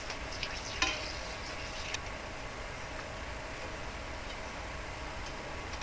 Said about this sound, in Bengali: এবার এর মধ্যে দিয়ে দিয়েছি শুকনো লঙ্কা।